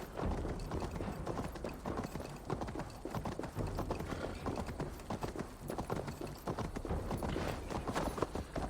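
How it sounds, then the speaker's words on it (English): Horse hooves gallop steadily in Assassin's Creed Valhalla, a quick continuous clip-clop rhythm under a dense, noisy game soundscape. "Let's hop on our horse and get after this guy."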